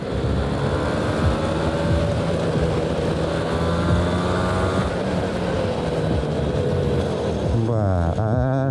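A two-stroke Yamaha TZR 250 motorcycle engine runs close and loud as a steady, buzzing drone. Its pitch wobbles and then drops sharply near the end.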